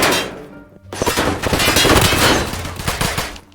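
Rapid bursts of gunfire crack loudly in the Roblox game Jailbird, a dense volley of close shots after a short pause, continuing for several seconds.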